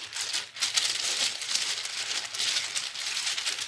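Oracle cards shuffled by hand, a continuous close papery rustle and riffle running about four seconds with small bursts, moderately loud and without speech.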